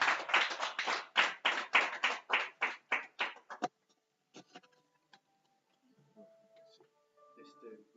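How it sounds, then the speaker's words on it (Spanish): A church congregation claps in unison, about a dozen loud, evenly timed claps that stop abruptly. Faint scattered taps and small noises follow in a quiet room. "Denle un fuerte aplauso al Rey de Reyes."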